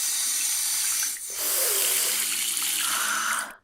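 A tap runs steadily as bloodied hands are washed under it, a broad hiss of flowing water with a brief dip in the flow just before the middle.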